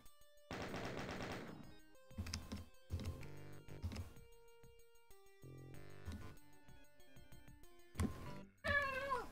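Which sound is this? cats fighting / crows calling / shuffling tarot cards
cats fighting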